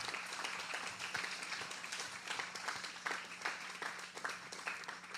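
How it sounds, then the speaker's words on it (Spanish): A church congregation clapping steadily together, a dense even wash of applause that carries on throughout at moderate distance. "Dale un aplauso al Señor."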